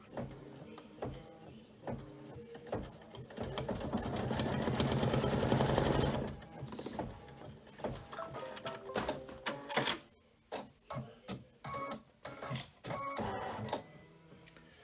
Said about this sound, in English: I'm going to stitch that tack down line